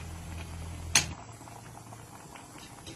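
A pot of sausage bubbles at a steady boil, a close, continuous low burble with a single sharp clatter early on and no voices.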